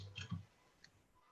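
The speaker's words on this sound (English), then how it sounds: "Sorry, I'm typing." A few faint, quick keyboard clicks in a quiet meeting room during a town budget workshop, a short cluster and then a lone tap.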